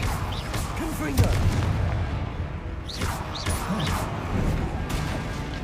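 Confringo blasting-spell explosions in Hogwarts Legacy, several sharp booming impacts at irregular intervals over a dense rumbling battle background, with whooshing spell sounds.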